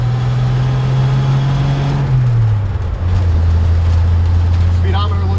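A 1955 Chevrolet 3100 short bed pickup truck drives along with a steady, close engine drone that dips in pitch as it shifts gears partway through, with voices faintly under the engine.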